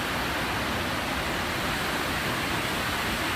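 Waterfall at Sioux Falls roaring as a steady, dense broadband wash of falling water, close and constant with no breaks and no voices.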